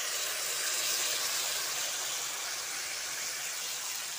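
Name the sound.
potato and raw banana frying with spices in a pan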